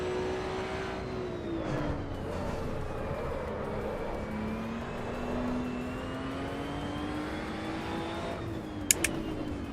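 A Ferrari 488 race car in Assetto Corsa EVO drones steadily at moderate revs, its engine note rising and dipping gently with a brief sharp click near the end.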